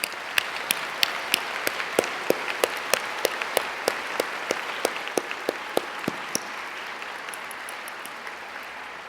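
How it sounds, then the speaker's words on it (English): An audience at a university convocation ceremony applauds, a sustained wash of many hands clapping with sharp individual claps standing out, steady and fairly close before easing slightly toward the end. "Please join me in a round of applause."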